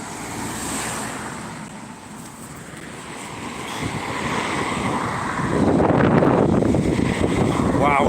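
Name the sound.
wind blowing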